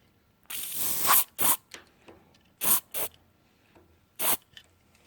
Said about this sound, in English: a little bit, tiny bit of brake cleaner, I reckon